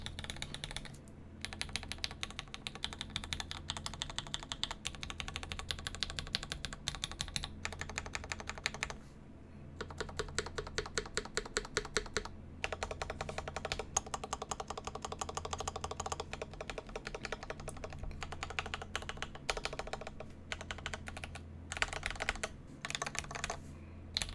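Typing on a Saturn 60 mechanical keyboard with stock, unlubed switches: dense, rapid clacking in bursts with short pauses, close and clear with no talking.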